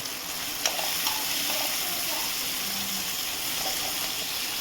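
Tomatoes with salt cooking in a pan for a green peanut curry, a steady loud sizzle and hiss of frying with occasional faint stirring clicks, no talking.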